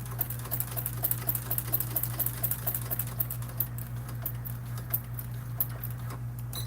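A sewing machine stitching red vinyl at slow speed for a Swoon Maisie bag, its steady rapid needle clatter running close and even over a constant low motor hum, with no voices.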